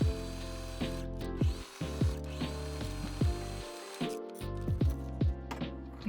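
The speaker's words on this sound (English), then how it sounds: "Using a straight stitch, sew along both sides of the fabric." Sewing machine running a straight stitch along both sides of scrap fabric for a DIY basket, rapid mechanical clatter in short bursts with brief pauses between runs.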